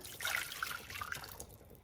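About 1.5 cups of water poured into a small pot on maximum heat make a short, faint trickle and splash lasting under two seconds.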